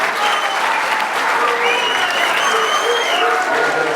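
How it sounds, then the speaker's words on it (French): Dense, steady applause from a crowd at a French town's New Year municipal ceremony, loud and continuous throughout with a few whistles or cheers rising above the clapping. "Bravo, Joris, on peut l'applaudir."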